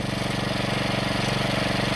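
A Clinton B1290 small engine runs steadily after a rebuild, with an even, continuous mid-pitched putter and a fast regular firing pulse. It is close and loud and heard alone, with no talk.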